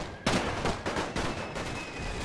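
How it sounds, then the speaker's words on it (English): Artillery shells landing in The Great War, several sharp, heavy impacts spaced a fraction of a second apart, the first the loudest, each trailing off into a rumbling wash of noise. "the artilleries are landing all around"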